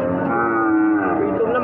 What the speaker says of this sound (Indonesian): Sapi PO. Nah, seperti ini sapinya.